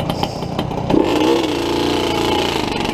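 A Yamaha DT 180 motorcycle engine revs hard and close, climbing from a rough idle into a loud, sustained roar that holds steady to the end.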